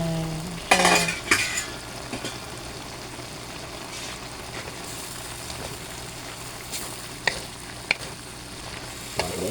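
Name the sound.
stirring lumpiang hubad filling in a frying pan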